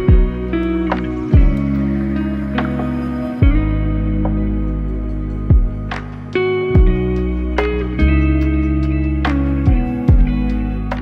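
Upbeat, ethereal chillhop lofi beat with deep bass notes, soft sustained chords and scattered percussive hits in a steady loop, loud and full, with no voice.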